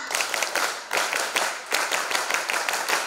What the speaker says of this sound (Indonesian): kalau nanti Bu Ina dilanjut tepuk pramuka, bisa ya tepuk pramuka, coba.